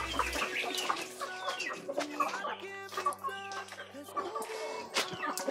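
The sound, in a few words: chickens clucking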